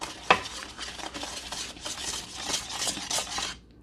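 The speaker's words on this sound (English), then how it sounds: "Then whisk that together." A lemon juice mixture being whisked in a bowl, with quick rhythmic scraping and clinking of the whisk against the sides, close and fairly soft, plus one sharp knock early on before it stops.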